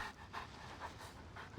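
Two dogs panting in Genshin Impact, a quick rhythmic huffing with several breathy bursts close up, without speech.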